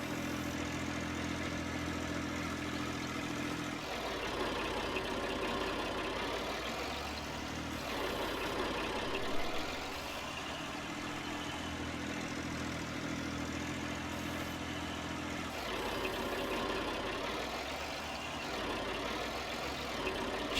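A tractor engine idling in a farming simulator game, a steady mechanical drone with a low throb that shifts in cycles every few seconds, constant and close with no talking.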